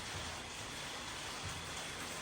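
Steady rain falls in a continuous, even hiss throughout, with no voices or other sounds.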